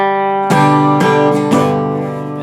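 Acoustic guitar playing the opening riff of a song, with hammer-ons and pull-offs ringing over sustained open strings, three clear picked attacks spaced about half a second apart, close and alone.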